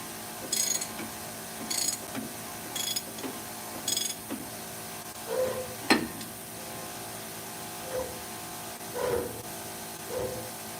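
A spinning wheel hub rubbing against its wheel seal gives a faint, rhythmic mechanical scraping and ticking, repeating every second or so against a quiet hiss, with no talking.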